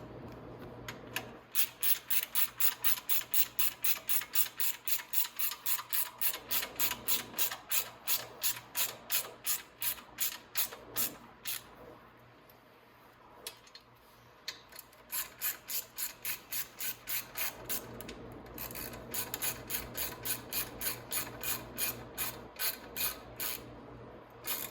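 Rapid ratchet clicking comes in long rhythmic bursts as parts on a Venom 250cc chopper are tightened, close and steady with brief pauses between runs and a low hum underneath.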